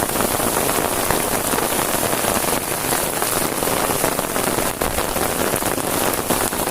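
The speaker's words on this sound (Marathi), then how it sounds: "आज रात्रभर मला तर वाटतोय खूप जोरदार पाऊस पडणार आहे." Loud, heavy night rain falls without pause in Ratnagiri, a thick continuous hiss of drops hammering the surface close by.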